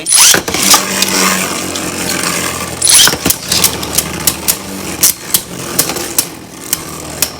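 Beyblade tops, Wind on a Bearing Drift and Dynamite, clash in a plastic arena with a loud steady whirring spin, broken by a run of sharp, regular metallic impact clicks close up.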